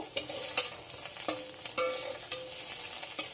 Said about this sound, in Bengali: ডিমের ঠিক এমন বড় বড় পিস করে ভালো করে ভেজে নেব।